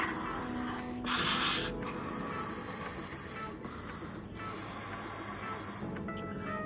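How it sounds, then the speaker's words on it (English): A bright hot pink swim buoy is blown up, giving a continuous close airy hiss that swells briefly louder near the start, then holds steady. "blow it up, and when it's full it becomes like this big bubble and it floats behind you"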